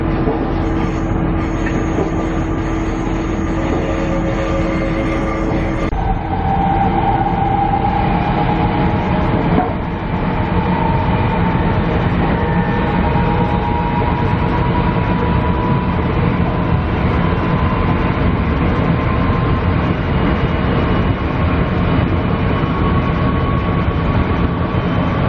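The Queensland Tilt Train running between Rockhampton and Gympie North, heard from onboard as a loud, continuous rumble of wheels on rails with a rising whine and faint rhythmic clatter, steady throughout with no talking.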